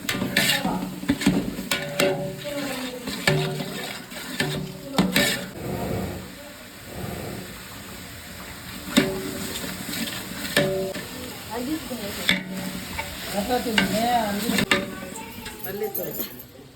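Mint and spices sauté in a pot for chicken biryani, with a steady sizzle, scraping spoon strokes and occasional metal clinks nearby while people talk over the cooking.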